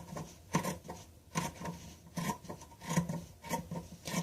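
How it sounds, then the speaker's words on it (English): Scissors cut fabric close by in quiet surroundings, about six evenly spaced rasping snips with soft rubbing between them. "now we're going to take our scissors and we are going to cut the fabric out."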